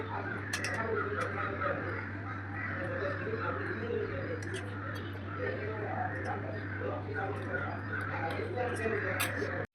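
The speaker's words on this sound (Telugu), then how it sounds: "కాకులు ఫుల్గా అరుస్తూ ఉంటాయి, చెట్ల మీదకి వచ్చేస్తాయి కదా" Crows caw repeatedly from a distance over a steady low hum, with other birds calling faintly in the background.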